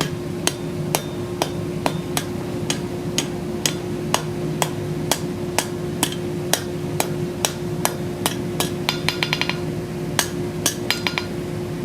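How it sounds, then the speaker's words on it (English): A blacksmith hammers hot steel near the feather area of a forged feather bowl, ringing hammer blows striking at a steady pace over a constant background hum, with a quick flurry of strikes near the end. "I'm gonna hammer right in close to the feather area."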